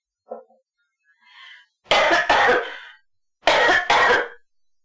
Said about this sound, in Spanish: Al hablar me da tos.